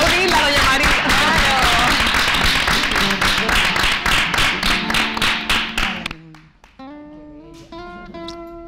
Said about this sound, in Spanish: Pero vamos a aplaudirla, doña María.